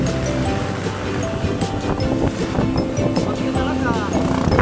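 Strong, gusty typhoon wind roars and buffets the microphone continuously during flooding rains, with a rushing, surf-like noise and people talking underneath.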